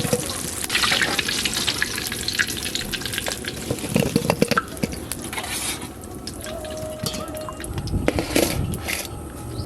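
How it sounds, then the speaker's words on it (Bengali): Potato pieces fry and sizzle steadily in a pan, with scraping stirs and clinks of a utensil on the metal, close and fairly loud, without speech. "এই যে আলুগুলো সব ভালো করে ভাজা হয়ে গেছে একদম লাল লাল করে"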